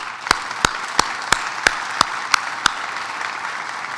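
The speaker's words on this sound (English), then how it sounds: "all of you really deserve a really strong round of applause from everybody." Applause at a senator's portrait unveiling ceremony, with a few loud, close, evenly spaced hand claps standing out over a soft wash of distant clapping from the crowd.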